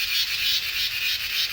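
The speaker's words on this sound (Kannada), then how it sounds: "ಸುತ್ತ ನಿಮಗೆ ಕೇಳಿಸ್ತಾ ಇರೋದು ಜೀರುಂಡೆ ಸೌಂಡು" Cicadas in a forest during the rainy season buzz in a steady, pulsing drone, several beats per second, fairly loud and continuous.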